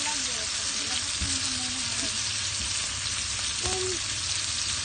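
Oil sizzles and fries steadily in a pan as aromatics are sautéed before mussels go in, a loud continuous crackle with faint stirring scrapes.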